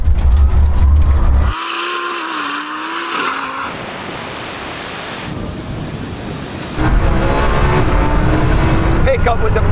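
A Lamborghini launches hard from a standing start, a loud roar that swells over the first seconds, drops back while the car pulls away, then surges again near the end; people talk and shout over it.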